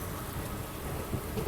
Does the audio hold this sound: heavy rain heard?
yes